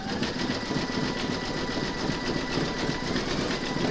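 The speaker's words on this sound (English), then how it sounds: "stitch round number 14, and that's going to zigzag the raw edge of the eggshell" Embroidery machine zigzag stitching the raw edge of an eggshell piece for Easter chick bunting, a dense steady whirring buzz, loud and close, continuous throughout before stopping abruptly.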